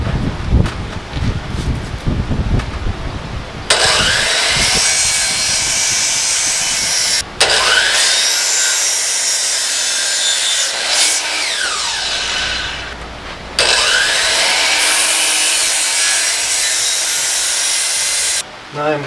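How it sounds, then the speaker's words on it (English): A power saw cuts a wooden workbench leg to length in three long, loud, close passes separated by brief pauses, with talk at the start. "Then we're going to have to cut it to length."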